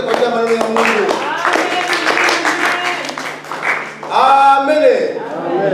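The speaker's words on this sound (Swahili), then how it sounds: "Tutachapa makofi na vigelegele kwa ajili ya maneno ya Mungu." A church congregation claps loudly and steadily while high, trilling ululations ring out over the applause, with voices mixed in throughout.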